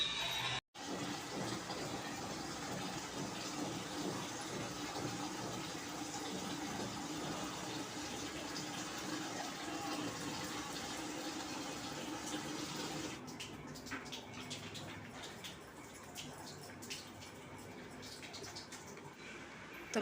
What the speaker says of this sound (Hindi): तो मैंने मुंह धो लिया है